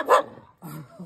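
A pet dog at home gives one sharp bark followed by a softer, lower yelp or whine, close and brief, with a person's voice faintly mixed in.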